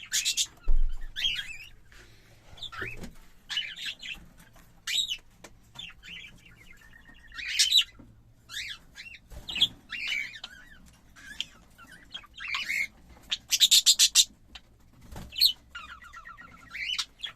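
High, thin chirps and squawks from newly weaned cockatiel chicks come in short, scattered bursts against a quiet background, with no talking.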